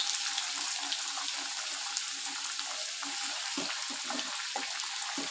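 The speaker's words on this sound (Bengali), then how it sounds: "এবার এই পটেটোগুলো ভালো করে লাল লাল করে ভেজে নেব।" Potatoes frying in a pan with turmeric and salt while preparing a homemade mutton curry, a steady broadband sizzle close up and fairly loud, with scattered crackles and a few soft scraping stirs, no talking.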